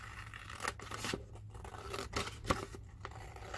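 Scissors cut through material to build an accordion box, a few crisp snips spaced across a quiet indoor room, close and moderately loud with no talking.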